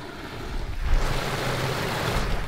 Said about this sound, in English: Here's the main waterfall of Burton Falls, right here, right on the road.